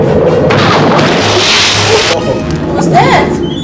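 A rocket explosion from the 1965 film Thunderball rumbles with a loud, swelling boom and hiss, while people talk over it in the room.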